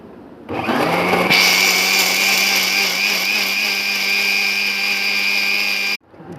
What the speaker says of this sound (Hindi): अब ये देखिए, हमने ग्राइंडर में अपनी कश्मीरी लाल मिर्चें हैं और टमाटर डाल दिए हैं।